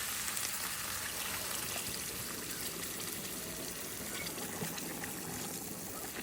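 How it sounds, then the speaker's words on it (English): Water splashes and hisses as it is poured into a hot frying pan, a steady noisy rush lasting several seconds without speech. "as it's frying, you just add your water."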